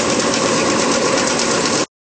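An iron powder mill runs steadily and loudly, its rotating drum dropping buckhorn onto a shaker tray with a dense, continuous mechanical rattle and rumble, close by and with no talk, then cutting off abruptly near the end.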